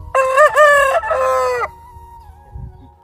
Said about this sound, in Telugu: ఇదే తమ్ముడు కోడి.